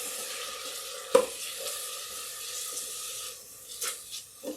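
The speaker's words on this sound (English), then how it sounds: "I'm going to saute that." Vegetables sauté in an Instant Pot on its sauté setting for a vegan Creole pasta, a soft steady sizzle with one sharp knock of a utensil and a few faint stirring scrapes.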